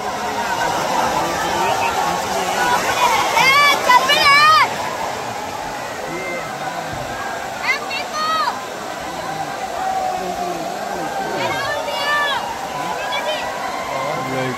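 A waterfall at Gupta Dham where people bathe gives a steady rushing wash, with people talking and calling over it and a few high whistle-like sounds in between.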